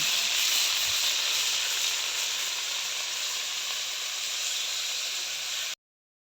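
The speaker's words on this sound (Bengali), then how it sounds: "ভালো করে ভাইজা নিব" Rohu fish frying in a pan, giving a loud, close, continuous sizzle and hiss that runs for almost six seconds before stopping abruptly.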